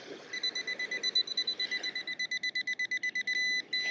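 A metal detector sweeping a lakeside beach while treasure hunting gives a fast series of rapid, evenly pulsed electronic beeps that merge into a longer tone near the end, close and clear.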